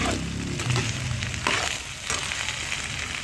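Zucchini frying in a pan for a chicken and vegetable maqlaqal, giving a steady close sizzle and crackle with soft stirring scrapes throughout and no voices.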